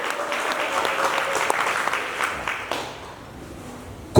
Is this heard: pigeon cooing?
no